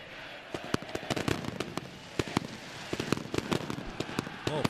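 Fireworks and firecrackers go off in a football stadium during an Argentine league match, a dense run of sharp cracks and bangs over a steady crowd roar, with no talk.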